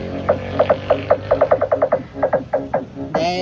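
During a soundcheck of a three-way speaker setup with a 2000 W sub, the mid speaker plays a rapid series of pulsing tonal bursts in irregular rhythm, fairly loud and close, ending with a brief sustained tone.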